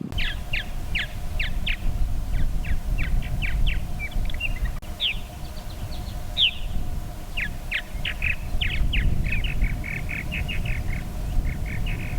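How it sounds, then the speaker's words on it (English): An osprey calls while building a nest outdoors, giving a long series of short, sharp, high chirps in quick bursts over a steady low rumble of wind or distant background noise. "This is an osprey building a nest."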